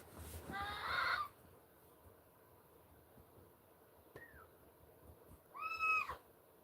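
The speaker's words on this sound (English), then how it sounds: "You can hear our parrot in the background." A pet parrot calls in the background of an indoor lapidary workshop: a loud squawking call at the start, a brief faint chirp midway, and another harmonic screech near the end, all over low room hum.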